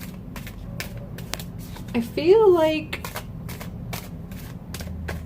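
Tarot cards are shuffled by hand in quick crisp riffles and taps. Someone talks over them, with a brief higher tonal burst partway through.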